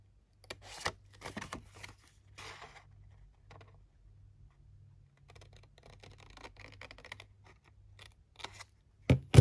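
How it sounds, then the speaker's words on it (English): Scissors cutting cardboard packaging give close, crisp snipping bursts in short clusters, separated by quieter rustling and handling, with a final sharp cut at the end. "I'm just taking out my scissors."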